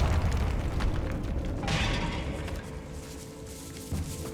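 Bombarda blasting spell in Hogwarts Legacy going off inside a decayed catacomb: a deep booming burst with crumbling debris and rumble that swells and lingers for several seconds, heard alone without talk.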